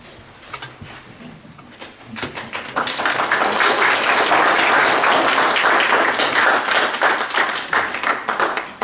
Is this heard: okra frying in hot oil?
no